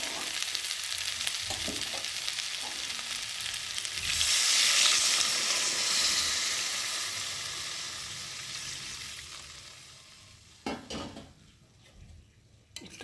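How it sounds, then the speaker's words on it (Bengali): Soybean and potato curry sizzles loudly in hot oil in a pan as water is poured in, the frying hiss surging and then slowly calming, with a few utensil clinks near the end. "এখন কষানো হয়ে গেছে, আর এখন এর মধ্যে জল দিয়ে দেবো।"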